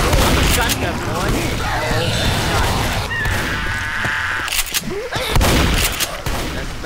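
Shotgun blasts and other gunfire in the zombie shooter Left 4 Dead, loud bursts repeating through the clip amid game chaos, with a player shouting and talking over the shots.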